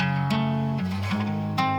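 Separately recorded guitar chords ring out in three distinct strums with sustained, harmonically rich tones, each cleanly cut before the next begins. No voices are present.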